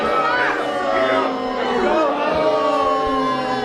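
Lively crowd at a teenage girls' arm wrestling tournament in Evanston, steady loud chatter and cheering from many voices throughout, with no single voice standing out.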